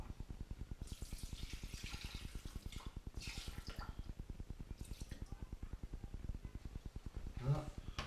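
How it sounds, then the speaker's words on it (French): Water, about 200 g, is poured into the bowl of a Fagor compact connected food processor, with close splashing bursts over a steady low rhythmic hum. "Ensuite, on va venir mettre donc 200 g d'eau."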